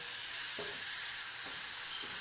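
Steak sears in a hot pan with a continuous, bright sizzle and hiss holding steady throughout, joined by a few faint scraping or turning sounds.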